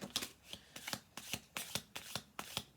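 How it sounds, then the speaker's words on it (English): A deck of cards being shuffled, heard close and quiet as a run of about seven crisp riffling bursts at an even rhythm. "I'm going to do 2 more shuffle throughs."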